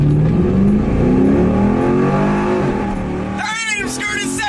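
Cammed police car with a straight-pipe exhaust, a stainless performance exhaust, an air intake and a tune accelerates hard, its loud rising engine roar climbing in pitch before a gear change, with someone speaking over it.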